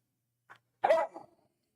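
A puppy gives a short yip and then one louder bark with a brief tail, close by in an otherwise quiet room at night.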